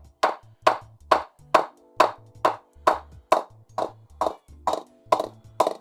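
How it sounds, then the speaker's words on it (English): A cricket ball tapped along the blade of a B3 Cricket custom Tendulkar long blade bat, working up from the toe. About fourteen crisp, resonant wooden knocks come at a steady, even pace, close and alone. "And we'll just test now the bat to hear what it sounds like."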